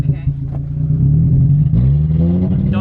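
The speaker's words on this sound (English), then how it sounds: "Now hold the clutch in. Rev it up pretty high." Manual stick-shift car engine revving up high with the clutch held in, a steady rising drone close by, with people talking over it.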